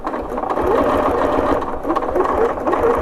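A domestic sewing machine runs steadily, quilting a pantograph on a Qzone hoop frame, its motor whirring continuously at close range with slight changes in speed.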